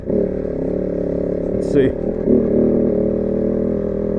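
A Kove 450 Rally motorcycle chugs steadily uphill over technical off-road ground, its engine a close, continuous mid-pitched drone with a brief rise, while a rider speaks briefly over it.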